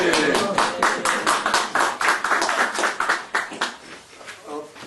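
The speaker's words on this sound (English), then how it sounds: "Round of applause." Audience at a welcome event for a German American studies center breaks into clapping, a fairly small group producing distinct rhythmic claps that swell and then thin out and fade toward the end.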